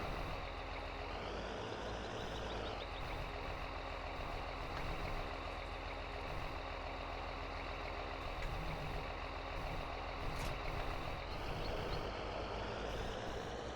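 Steady engine drone of a heavy farm vehicle in Farming Simulator 19, running continuously with small pitch shifts and a brief rise in tone near the start and end, no talking.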